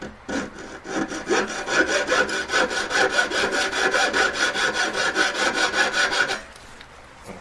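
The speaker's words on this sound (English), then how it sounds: "Looking at my saw blade in between those two ends, get it in the middle, straight across." Close, steady back-and-forth strokes of a jeweller's saw blade cut across a metal hoop earring, rhythmic rasping for about six seconds before stopping abruptly; no talking.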